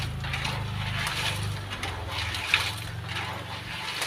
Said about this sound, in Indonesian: dan jika digoreng basrengnya itu bunyinya seperti ini